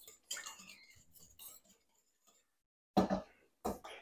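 A spoon stirs sugar into a chili cornbread casserole mixture, making a few quiet scraping clinks against the bowl, close and brief, followed by two louder knocks after a short silence.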